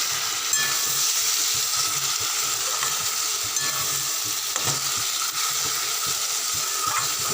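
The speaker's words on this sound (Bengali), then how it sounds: "রসুনটা আগে ভাজা হয়ে যাক একটু ভালো করে" Garlic frying in oil in a pan along with fried potato and eggplant, a close, continuous sizzle with intermittent stirring scrapes and taps.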